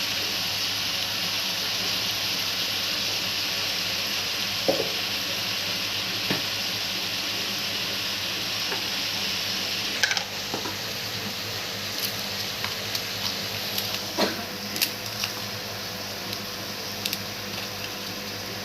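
Oil heating in a pan for an Andhra-style Guntur gongura mutton curry gives a steady, even sizzling hiss throughout, close and moderately loud, with a few soft pops and clicks and no talk.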